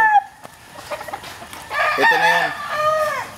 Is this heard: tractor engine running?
no